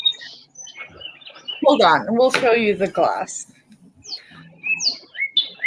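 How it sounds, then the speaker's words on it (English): Birds chirp and tweet outdoors in short high calls, some at the start and a clear run near the end, with people talking over the middle. "you got some birds"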